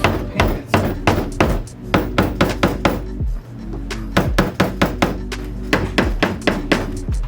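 Repeated hard strikes against a car rocker panel wrapped in Vicrez paint protection film, a fast run of loud close thuds and knocks with a short pause partway through, no talking.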